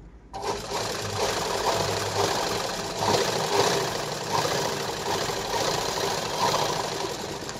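A sewing machine running a double line of stitching on a blouse sleeve seam, a close, steady mechanical whir and rapid needle clatter that starts abruptly and runs continuously.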